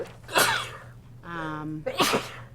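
Two sharp, close sneezes burst out during a finance committee meeting, about a second and a half apart. A short voiced sound comes between them over faint room hum.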